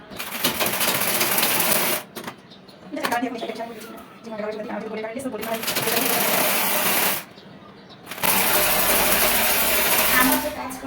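A sewing machine runs in fast mechanical bursts while stitching saree fabric with lace, loud and close, pausing between runs as someone talks in the gaps.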